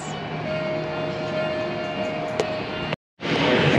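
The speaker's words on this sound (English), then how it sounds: "Excuse the construction noise." Construction machinery outside a balcony at Margaritaville Resort Orlando gives a steady, loud broadband roar that holds constant, cuts out abruptly for a moment near the end, then resumes.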